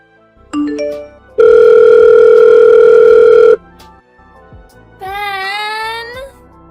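A telephone rings unanswered. A few short rising beeps come first, then a loud steady ring tone holds for about two seconds. A warbling ringing tone follows.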